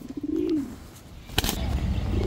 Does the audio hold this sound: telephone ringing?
no